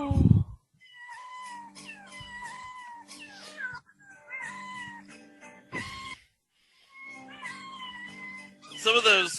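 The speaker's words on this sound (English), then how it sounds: "Some of those cats had a little bit of in-house sweetening, you can tell." Cats in a TV segment, with meows sweetened in post-production, yowl and meow in long wavering cries, several overlapping in sequence, loud and close with brief gaps.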